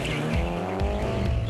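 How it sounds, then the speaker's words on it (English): A 2006 Mitsubishi Evo 9 rally car is flung into a sideways handbrake slide, its engine revving loud and close under a continuous tire scrub through the turn. "demonstrated here by Nathan Luck in his 2006 Evo 9, deliberately puts the car into a sideways slide before turning the vehicle in the opposite direction"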